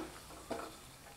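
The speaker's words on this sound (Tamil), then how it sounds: "இப்போ ஒரு ஸ்பூன் நெய் விட்டு முந்திரி பருப்பு வறுத்து எடுத்துக்கலாங்க." Crushed cashew nuts roasting in a spoonful of ghee, a soft low sizzle with one brief stir or scrape in the middle, faint and close.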